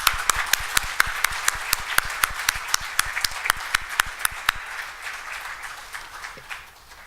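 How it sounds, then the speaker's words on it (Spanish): Applause at a Catholic university gathering in Cochabamba, dominated by one close, crisp pair of hands clapping in a steady rhythm over softer background clapping that fades after a few seconds. "Le damos un caluroso aplauso."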